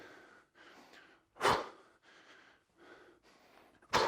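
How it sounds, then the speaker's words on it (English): Heavy rhythmic breathing, close to the microphone, with two sharp, forceful exhales standing out among steadier breaths. "you can hear my breathing"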